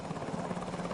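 A military helicopter flies past during a sequence on airborne troop insertion, its rotor and engine making a steady, dense whooshing drone that holds throughout the short moment.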